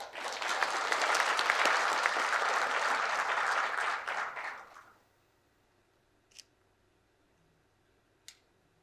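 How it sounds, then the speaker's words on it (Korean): Warm audience applause at a ceremony marking Human Rights Day and the 76th anniversary of the Universal Declaration of Human Rights, full and steady for about five seconds before cutting off, followed by two faint isolated clicks. "여러분의 따뜻한 박수와 함께 시작하겠습니다"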